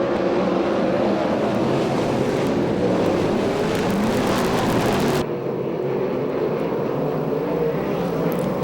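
USAC/CRA sprint cars racing on the Perris oval, engines roaring close by in a loud sustained drone. The sound drops abruptly as the pack passes and a more distant engine hum continues.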